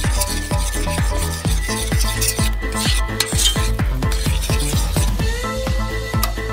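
A spoon stirs a mixture of lemon juice, basil, salt and sugar, making quick, steady clinks against the bowl that repeat close up for several seconds.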